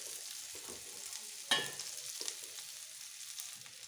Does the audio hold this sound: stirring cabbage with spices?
yes